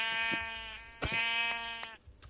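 Sheep in the Minecraft video game bleat several times in close succession, clear nasal calls with brief gaps between them, fairly loud and alone.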